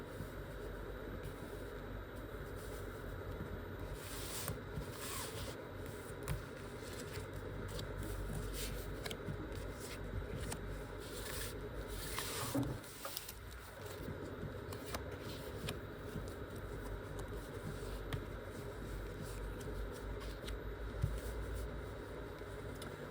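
Cards being laid out one after another on a table, nine in all: soft slides and flicks under a constant background hum, close but quiet, with no talking.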